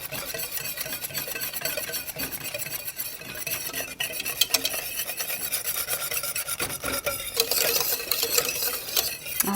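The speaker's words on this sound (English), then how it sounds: "Let's just try to give that a good whisk to get most of it incorporated for now." Cocoa powder being whisked into liquid for a chocolate pudding, a continuous close rasping whir of a whisk against the pot, steady and fairly loud throughout with no voices.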